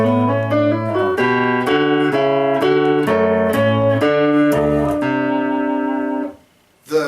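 A piano plays a phrase from the Minuet in G as a steady, clear melody over a lower line of notes, with no one talking, then it fades out near the end.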